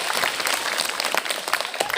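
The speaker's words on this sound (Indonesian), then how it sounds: "Kasih tepuk tangan untuk kakak" An audience at a madrasa gathering claps for a student, a brief burst of dense, steady applause in a room.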